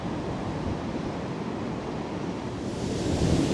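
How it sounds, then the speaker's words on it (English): Stormy sea waves surge against the Blackpool seafront, a continuous broad rush of surf mixed with gusting wind buffeting the microphone, swelling louder toward the end. "those waves are coming up here all right"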